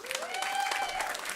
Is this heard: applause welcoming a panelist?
yes